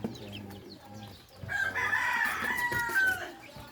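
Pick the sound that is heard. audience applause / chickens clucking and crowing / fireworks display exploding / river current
chickens clucking and crowing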